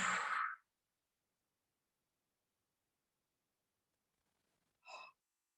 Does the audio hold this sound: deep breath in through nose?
yes